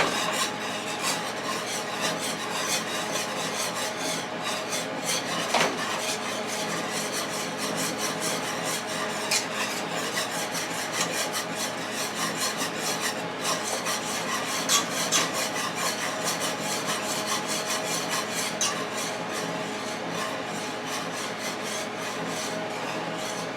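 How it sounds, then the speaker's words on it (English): A whisk scraping steadily through a roux in a pan while making scalloped potatoes, a continuous close rasping swish with a few sharper clicks against the metal and no talking. "So we're gonna whisk this"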